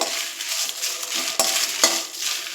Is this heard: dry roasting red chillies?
yes